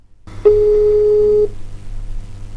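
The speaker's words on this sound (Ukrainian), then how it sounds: "номер абонента, якому ви телефонуєте, зайнятий або абонент відхилив наш виклик" A telephone busy signal: one sustained electronic tone lasting about a second, loud and clear over faint background noise, then a quieter hum.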